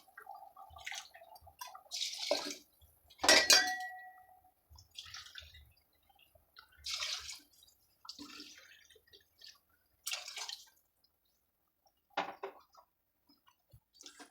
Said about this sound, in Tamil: நாலரை கப்பு தண்ணி ஊற்றணும்